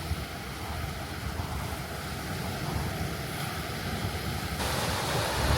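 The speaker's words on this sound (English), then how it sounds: "Just gonna sit here and listen to the waves for a bit" Sea waves wash onto the shore at Yafa in Palestine, a steady, moderately loud surf roar blended with wind noise, continuous throughout with no talking.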